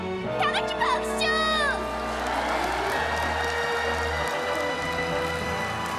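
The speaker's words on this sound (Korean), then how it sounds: "마법이 풀린 공주님께 다 같이 박수!" Children clap for a princess freed from a spell on a kids' TV show, a steady patter of many small hands rising after a bright voice and a musical flourish, continuing as an even crowd applause.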